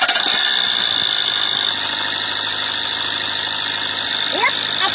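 An Opel diesel engine runs at idle, with a steady mid-pitched engine drone and a high whine holding throughout, close up and alone.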